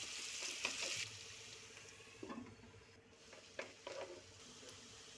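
Bay leaf, cinnamon, cloves and onions dropped into hot oil for green chilli chicken, a faint sizzle that bursts louder at first, then short stirring scrapes and small clatters near the pan.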